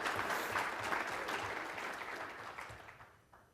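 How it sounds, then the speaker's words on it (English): Steady audience applause from a seated crowd at a conference panel on provider wellness, a dense wash of clapping that fades gradually toward the end. "So let's have one more round of applause for our panel before we get started."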